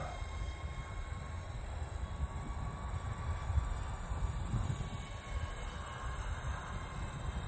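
A steady whooshing drone with a faint high whine that holds throughout, from a small E-flite UMX Me-262 electric ducted-fan model jet flying nearby.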